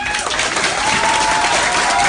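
Steady, dense applause from a large audience fills the space for a couple of seconds, loud and unbroken, with a faint voice over it.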